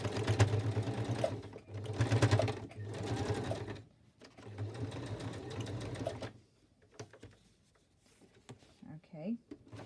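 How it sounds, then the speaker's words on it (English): A sewing machine stitches in steady bursts, its motor whirring loudly with brief pauses between runs, then fading to quieter handling noises near the end. "My sewing machine resisted a bit"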